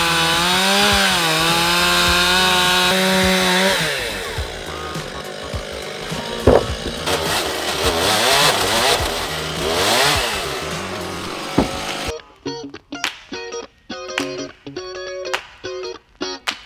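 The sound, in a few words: chainsaw cutting through rotten wood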